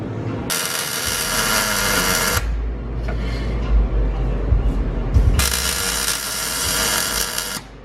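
Welding on custom steel skid plates and rock sliders for a Toyota Tacoma in a shop, two loud sustained bursts of hissing, crackling arc noise separated by a stretch of low rumble and clatter.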